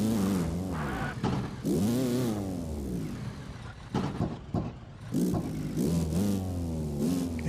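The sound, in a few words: racing car engine revving in a racing video game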